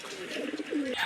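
A domestic pigeon gives a short, soft cooing call nearby, a few rolling low notes in quiet surroundings.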